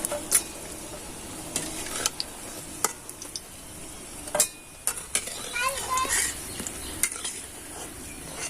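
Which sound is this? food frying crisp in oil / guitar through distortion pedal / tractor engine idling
food frying crisp in oil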